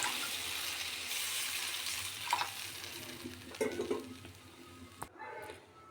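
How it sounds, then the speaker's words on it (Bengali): Water poured into a pan of frying egg curry hisses with a steady sizzle, with stirring and splashing sounds rising in short bursts before settling to a quieter simmer. "এখন এর মধ্যে দিয়ে দিচ্ছি সামান্য একটু জল।"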